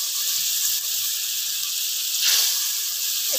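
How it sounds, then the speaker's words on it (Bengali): Curry gravy boiling in a pan as fried eggs go in, a steady loud hiss and sizzle that swells briefly partway through. "ঝোলটা ফুটে উঠেছে, এই ভেজে রাখা ডিমগুলো দিয়ে দেব"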